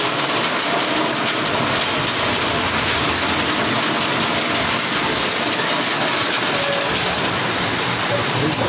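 Rain falling steadily at a railway station area, a dense, continuous hiss with no breaks, loud and close, mixed with a faint rumble in the background.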